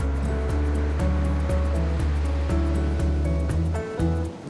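Surf and ocean waves roll continuously along the shore near Olonne-sur-Mer on the French Atlantic coast. The wash is loud and steady throughout, mixed with a low, broad rumble and no voices.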